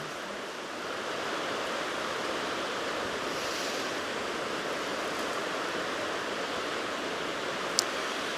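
Hraunfossar and Barnafoss waterfalls on the White River in Iceland pour in a steady, broadband roar that stays even and continuous, with one brief sharp click near the end.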